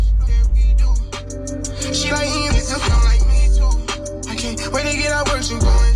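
Music plays loud through the 18-speaker sound system of a 2022 Dodge Challenger Scat Pack Widebody: a bass-heavy track with a sung vocal and steady thumping beats filling the cabin.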